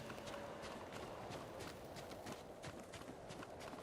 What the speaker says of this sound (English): I think this is just a horse having a good old day at the beach.